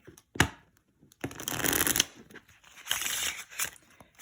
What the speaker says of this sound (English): We'll give it a riffle shuffle.